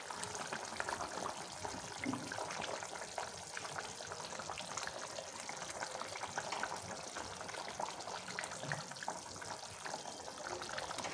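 Koftas of jackfruit go into a pan of cooking curry gravy, giving a steady close wash of bubbling, splashing liquid and sizzle that holds evenly for the whole stretch, with no voices.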